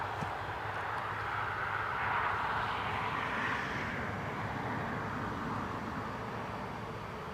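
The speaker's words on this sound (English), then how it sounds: "I've got an Embraer 195E2 from Edinburgh." An Embraer 195-E2 jet airliner at Newcastle Airport produces a steady, moderately distant engine roar that swells slightly and then holds, with no talk over it.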